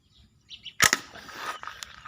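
A slingshot crossbow fires a shot at a target, a single sharp snap followed by a short rattle and faint trailing clatter, close and otherwise quiet.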